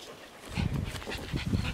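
A puppy whimpers and whines in a quick series of short, close, high-pitched cries with snuffling breaths in between, no talking.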